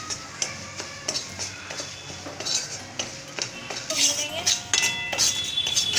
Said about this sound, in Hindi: इसमें बेसन डाल देते हैं और अच्छी तरह से भून लेंगे